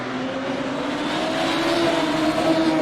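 Radical race cars racing at Long Beach, a steady high-pitched engine whine holding near and loud throughout, rising slightly as the cars push on, with no talk heard.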